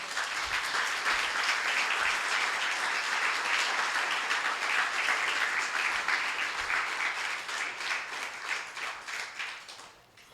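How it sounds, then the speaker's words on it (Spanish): A church congregation claps together in praise to God during a sermon, producing sustained dense applause that holds steady for most of the stretch before thinning and tapering off near the end. "Denle un aplauso al Señor."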